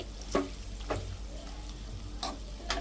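Garlic chicken roasts in a pan with a low, close sizzle and about five distinct scraping strokes of a spatula stirring the pieces.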